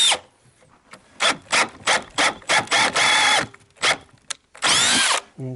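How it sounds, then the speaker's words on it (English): A cordless drill drives a screw into a 2x4 roadbed in bursts, the motor whining through a dozen or so short, loud spurts of varying length with brief pauses between, close up and with no talk. "I should have just drilled it when I had it in hand before."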